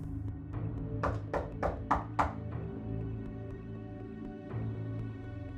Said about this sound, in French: Soudain, on frappe très fort à la porte.